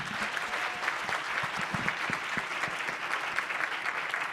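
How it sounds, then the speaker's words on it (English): An audience at the close of a research event claps steadily, a moderate, even round of applause from a room of people with no talk over it. "And a big round of applause for our all-day timekeeper."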